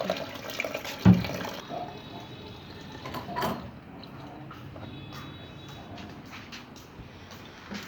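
Water running from a shower tap at home, a steady hiss and splash with a sharp knock near the start and faint clatter, sustained throughout.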